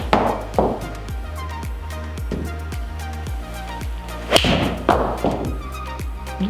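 A Ping G410 iron strikes a golf ball on a practice range, giving a sharp thud with a swishing follow-through. Further dull impacts and taps sound around it, with no voices.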